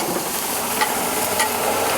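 A chicken burger sizzles steadily on a flat-top grill at a cottage, a dense, even frying hiss close by with faint scraping ticks and no voices.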